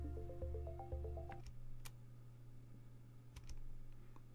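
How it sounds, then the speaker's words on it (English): Close, quiet tapping on a computer keyboard, a few scattered sharp key clicks over a low steady hum and a brief tonal melody at the start, with no talking. "The sound comes from Kenny's keyboard."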